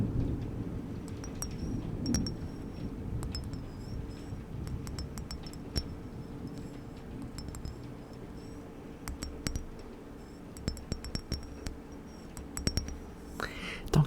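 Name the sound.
thunder during a storm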